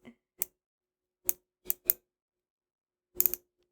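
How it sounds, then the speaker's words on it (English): A click-pen makeup product is twisted, giving a run of sharp, dry plastic ticks: one small click, a single tick, then a quick group of three and finally a tight cluster, close and quiet against silence. "It's a click pen. You have to rotate it like so."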